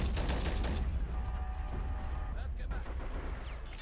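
Gunfire crackles through a Men of War Assault Squad 2 battle on the Eastern Front, with dense, rapid shots and rumbling booms running throughout beneath a low, ongoing mechanical hum.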